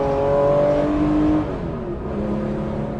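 A Porsche 964 911 engine revving steadily while driving through hills, a loud close drone with a rising then falling pitch, shifting lower after a gear change and settling into a steady cruise.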